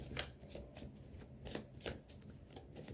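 Oracle cards being shuffled repeatedly, a steady riffling and rustling with rhythmic bursts, close by and without talk.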